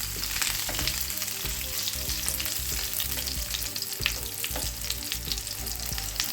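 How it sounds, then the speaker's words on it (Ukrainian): Buckwheat patties sizzle and crackle steadily in a hot covered pan, a dense, continuous frying hiss with occasional pops, no voices. "Смажимо гречаники з одного боку. Смажу під кришкою."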